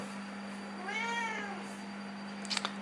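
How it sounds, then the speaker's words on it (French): A house cat gives one drawn-out meow with a rising and falling pitch, fairly close and clear, followed by a couple of faint soft clicks over a steady background hum. "Encore mon chat qui fait des siennes, comme d'habitude."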